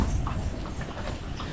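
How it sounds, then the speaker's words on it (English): Horse hooves clip-clop on a street on Gili Trawangan island, Indonesia, a steady close rhythm of hoofbeats over busy low ambient noise without talk. "Look at the horse there."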